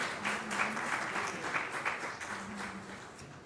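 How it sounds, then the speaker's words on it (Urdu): An audience at a Prime Minister's Office ceremony in Pakistan gives a burst of continuous clapping, steady and somewhat distant, with a faint voice briefly audible underneath. "ان کے لیے بھرپور تالی لگائیں"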